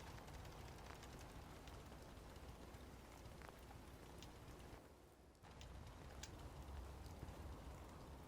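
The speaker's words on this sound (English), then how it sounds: "Hope this rain lets up soon." Rain falls steadily in Fallout 4, a dense, even hiss of drops with scattered patters, a brief dip in intensity partway through, no voices.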